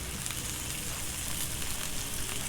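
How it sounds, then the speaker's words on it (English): Salmon fillets sizzle on a hot Blackstone griddle, a dense, steady crackling hiss that carries evenly throughout without pause, close and moderately loud. "Listen to that sizzle."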